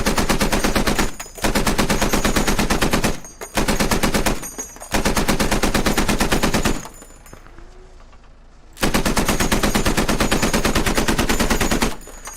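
Rapid automatic weapon fire from the Halo mod for Squad, loud and sustained in long continuous bursts with short gaps, one longer pause near the middle before firing resumes; no talking.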